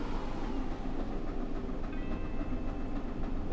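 Train running in the Train Sim World video game, a continuous rolling rumble with clattering wheel noise and a faint high tone near the end, steady and fairly loud, with no talk.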